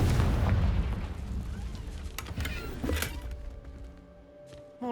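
The Confringo fire spell in Hogwarts Legacy bursts with a deep boom, followed by crackling debris and a few sharper pops that fade into a quiet, echoing room.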